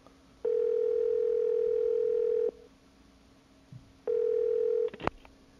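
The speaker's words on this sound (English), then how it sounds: "Phone call." A phone rings in the horror video game Evil Inside: two long, steady electronic tones separated by a pause, clear and alone, ending with a short click.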